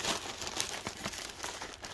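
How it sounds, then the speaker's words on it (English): Thin plastic Amazon shipping bag being torn open along one side, a close, quiet burst of crinkling and ripping lasting about two seconds with no talking. "it comes in the regular Amazon plastic bags where you kind of just tear one side out"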